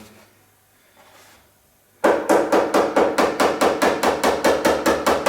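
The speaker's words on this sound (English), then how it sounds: "So now I can start crimping it all the way around." Rapid, evenly spaced metallic hammering blows crimping the edge of a Classic Mini boot skin panel, about fifteen loud strikes in a steady rhythm after a couple of quiet seconds.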